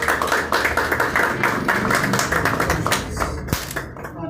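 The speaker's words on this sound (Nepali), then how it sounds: "ताली बजाउँदैछौँ।" An audience at a film show event bursts into dense, close, steady applause that thins out toward the end.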